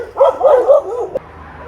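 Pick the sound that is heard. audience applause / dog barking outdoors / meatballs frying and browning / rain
dog barking outdoors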